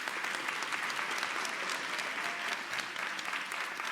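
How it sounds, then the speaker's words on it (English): Audience applause at a nursing college convocation: an even, continuous crowd of clapping hands, moderately loud and steady from start to finish. "Let's give these teams a round of applause for their support."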